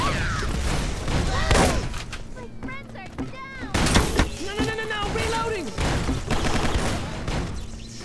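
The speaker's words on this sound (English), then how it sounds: "who's shooting at me?" Rapid bursts of gunfire in the shooter game Microvolts crack out loudly in clusters, mixed with thuds and busy game effects, while a player talks over the action.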